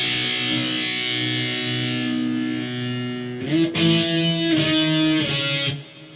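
Slow, sustained electric guitar notes from the interlude of a song ring out with effects, then a few stronger strummed chords enter before fading, moderately loud with no voices.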